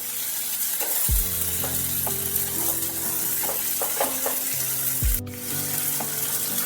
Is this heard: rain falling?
no